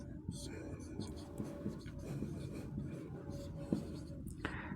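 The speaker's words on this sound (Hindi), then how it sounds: "तो यहाँ लिख देंगे" Chalk or marker scratching on a board during a maths lesson, with soft irregular strokes and taps heard under quiet background murmur.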